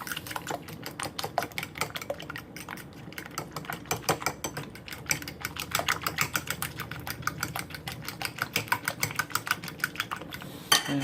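Breakfast ingredients get mixed in a bowl in a kitchen, producing a quick, steady run of clicking and tapping as the utensil strikes the bowl, close and continuous with no voices.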